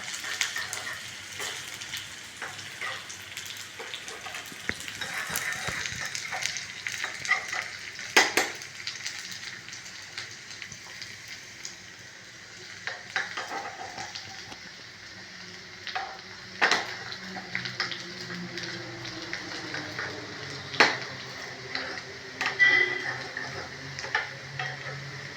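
Small onions, mustard seeds and chillies frying in oil in a pan, a faint, steady sizzle with scattered soft ticks and light utensil clinks throughout.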